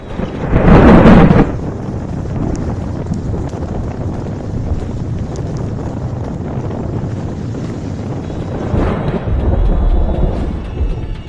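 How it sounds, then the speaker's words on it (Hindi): Super cyclone Amphan making landfall on the West Bengal coast near Digha, where strong wind roars and buffets the microphone in heavy gusts, loudest at the start and again near the end, with no voices. "ये पश्चिम बंगाल की वो जगह है जहां सुपर साइक्लोन उम्पुन पहली बार जमीन से टकराया।"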